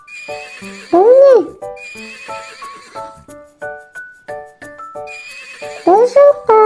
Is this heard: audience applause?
no